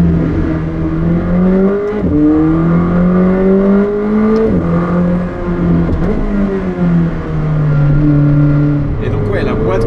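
McLaren 765LT with twin-turbo V8 accelerating hard through several quick upshifts, loud and close, each gear rising in pitch before a brief dip, with a steady drone throughout.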